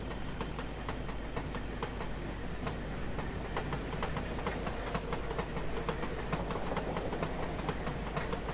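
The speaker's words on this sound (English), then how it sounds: "the track joins are very frequent" Class 37 locomotive hauling a Class 7 train in Train Sim 2021 on the Brancepeth Colliery line in Durham, wheels striking frequent rail joints in a steady clickety-clack over a continuous rolling rumble.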